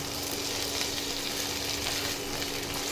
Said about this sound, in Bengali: ঢ্যাঁড়সগুলো অল্প করে একটু ভেজে নিই।